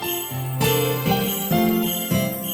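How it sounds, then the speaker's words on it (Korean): Christmas bells in a children's holiday song, ringing in bright, tonal jingles over a melodic backing, with new chimes entering every half second or so. "우와 크리스마스야 종소리가 들리니?"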